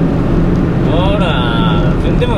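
An old, beat-up kei truck's engine strains under acceleration, a loud, steady drone running the whole time without rising much in speed, with talk over it.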